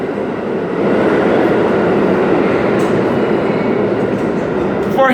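A subway train rumbles steadily at an L train platform, loud and close, with a broad continuous roar of wheels on rails and faint squeals near the end.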